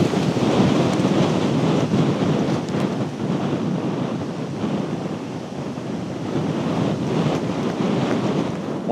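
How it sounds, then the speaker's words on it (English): Strong wind gusting across an exposed hilltop on Werneth Low above Longdendale, a loud continuous roar buffeting the microphone with surges and dips throughout, no voices. "hopefully you can hear me because the wind is picking up"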